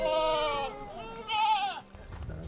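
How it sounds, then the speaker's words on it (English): Two high, wavering bleats from five- to six-day-old baby goats close by on a goat farm, one after another, followed by faint background noise. "Goats behind me, 5 days old, 6 days old, I think."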